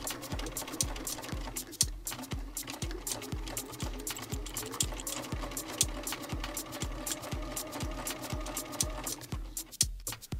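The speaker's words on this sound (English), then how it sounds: "Option two is to straight stitch around the original hem." A sewing machine runs a steady straight stitch around the original hem of a pair of jeans, its rapid, regular needle thumps close and continuous with a brief hitch near the end.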